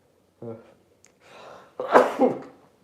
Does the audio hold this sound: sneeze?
yes